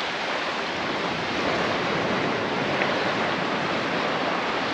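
Ocean surf rolls in at Palolem Beach in South Goa: a continuous, full, close roar of breaking waves with no voices, steady in loudness from start to finish.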